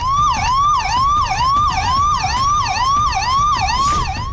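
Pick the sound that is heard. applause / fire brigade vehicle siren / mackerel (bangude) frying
fire brigade vehicle siren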